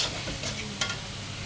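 Beef tongue curry with potatoes and tomato stir-fried in a pan, a soft continuous sizzle with faint scraping stirs, steady and close, with no voices.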